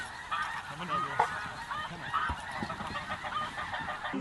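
A flock of snow geese honks in flight on a hunt, with repeated high, nasal calls from several birds at mid distance over a steady outdoor background.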